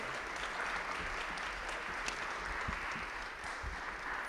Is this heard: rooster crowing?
no